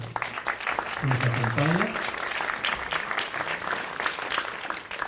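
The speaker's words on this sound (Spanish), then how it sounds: "les pido un caluroso aplauso" Audience applause for a panelist at a national cultural panel discussion, a steady clapping wash running beneath a voice speaking in Spanish throughout.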